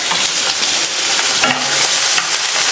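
Chopped onion with green and dried red chillies sautéing in a pan, a loud, dense sizzle and crackle throughout, with faint stirring.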